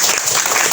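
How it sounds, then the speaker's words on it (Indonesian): Applause from an audience at a Scout (Pramuka) talk, a dense steady patter of many hands clapping at even loudness for under a second. "tepuk tangan"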